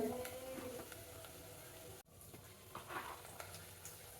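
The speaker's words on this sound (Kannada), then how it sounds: "ನೋಡಿ, ಫ್ರೈ ಆಗ್ತಾಯಿದೆ." Oil frying in a pan for mango rice, a faint steady sizzle with occasional light stirring scrapes and a brief dropout partway through.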